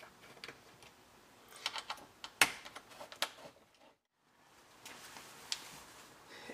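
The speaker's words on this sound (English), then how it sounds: "Then you take your 3mm Allen and just start systematically removing these machine screws." Small ticking and clicking as machine screws are worked loose with a 3mm Allen key during a car audio component install, irregular light metallic taps and scrapes, close and quiet, with a brief silent pause midway.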